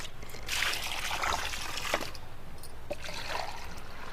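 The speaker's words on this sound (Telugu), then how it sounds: "కొన్ని నీళ్ళు మాత్రం కుండీల్లో వేస్తున్నాను" Cow dung water poured into plant pots, a light trickling and dribbling of liquid in short bursts, close and fairly quiet, with no talk.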